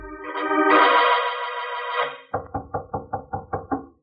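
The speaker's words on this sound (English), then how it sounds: "there was a knock on Mallard's door." In a radio drama, a short musical sting fades, then someone raps on an office door: about eight crisp, evenly spaced knocks, close and clear.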